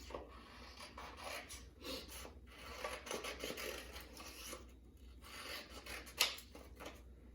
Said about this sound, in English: And cut up the middle to make them puzzle pieces